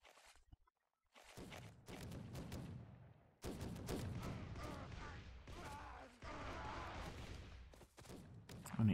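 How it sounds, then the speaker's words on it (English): A volley of muskets goes off together in the Blood & Gold: Caribbean game during a siege, producing a burst of crackling gunfire followed by sustained rumbling battle noise, with a voice speaking faintly at times. "When they all shoot at the same time"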